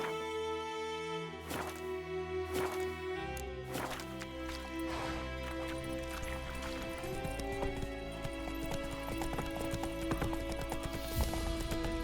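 Roach, Geralt's horse in The Witcher 3, gallops with quick rhythmic hoofbeats that carry under game music, with a whinny and snort standing out.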